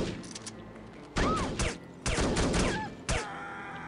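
Gunfire in the shooter game No One Lives Forever: three separate sharp bursts, loud and close, each trailing off, with a quieter stretch of ambience in between.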